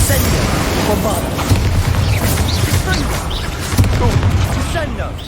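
Booming spell blasts from Bombarda in Hogwarts Legacy mix with other magical combat effects, a dense, continuous layer of bursts and crackles with stronger hits near the start and around four seconds, under steady game noise.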